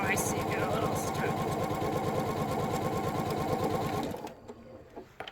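Sewing machine running fast and steadily while stitching a quilt seam with a quarter-inch allowance, a close, even rapid chatter that stops near the end, followed by quiet handling sounds.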